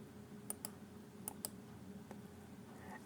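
Several crisp computer mouse clicks, quiet and close, arriving in quick pairs with brief gaps, over a faint room hum and no talking.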